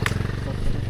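A 220 cc motorcycle squeezes along a narrow path, its engine idling in a steady, close low rumble with a short sharp clatter near the start.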